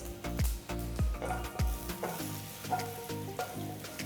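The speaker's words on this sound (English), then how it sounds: "Once the ghee is melted, add 1 tablespoon of cumin seeds." A tablespoon of cumin seeds sizzles in melted ghee in a wide pan, a close, steady frying crackle with a few spoon knocks near the start.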